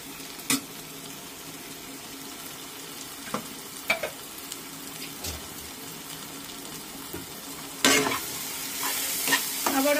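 Cashew paste with spices fries in oil in a pan, with a soft continuous sizzle broken by scattered scrapes and clinks of stirring, a louder burst of stirring and sizzling coming toward the end.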